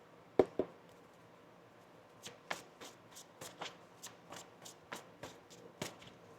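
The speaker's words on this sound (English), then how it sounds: "One more shuffle." A deck of tarot cards is shuffled by hand: a sharp riffle burst, then a steady series of crisp, close riffles and taps, quiet between them.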